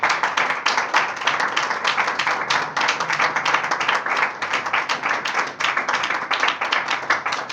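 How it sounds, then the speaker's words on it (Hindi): Vigorous clapping fills a church as the congregation applauds for God, a dense, steady stream of hand claps close and loud with no talk, lasting several seconds. "जिंदा खुदा के लिए जोरदार तालियां बजाएंगे।"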